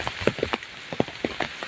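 Rain falls over rice paddy fields in rural Odisha, its drops landing as sparse, distinct taps and patters, fairly close and moderately quiet, with no one speaking.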